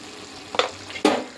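A pan of chicken curry with chili powder being stirred, with two short scraping strokes of the spoon over a low, steady sizzle, close by and with no talking.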